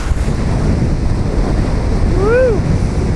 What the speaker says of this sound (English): it's pretty wild ocean